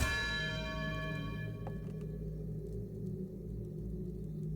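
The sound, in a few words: bell ringing in the video game Outer Wilds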